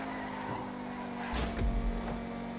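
Osiris sports car in GTA 5 Online driving with a steady engine hum, then a brief tire skid and screech with low rumble near the middle, fairly close and moderate in level.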